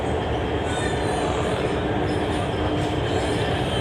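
An Orange Line metro train arriving at a station in Pakistan, a loud, steady rumble of wheels and carriages close by, with faint squealing and rail clatter throughout and no voices.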